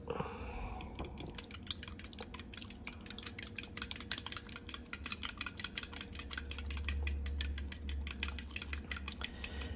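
Maggi sauce, fish sauce and MSG are mixed in a bowl for an omelette, a rapid run of small metallic clicks and scrapes from a utensil beating against the bowl, close and fairly quiet, no voices.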